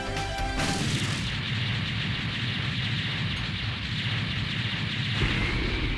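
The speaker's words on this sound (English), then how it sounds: "thank goodness they shortened the explosion time on the Mavericks" Boss explosion in the Mega Man X4 game after a Maverick is defeated, a loud sustained rumbling blast with crashing debris that fills the whole clip, starting with a sharp burst and rolling on steadily.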